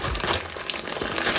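Plastic packaging crinkles continuously and close up as a £1 wig is unboxed, a dense rustling texture with no talk over it.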